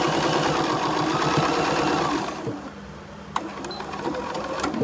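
A sewing machine stitches fabric for a Christmas tree pouch in a fast steady whirring run, then stops, followed by a few light clicks and short bursts of back stitching.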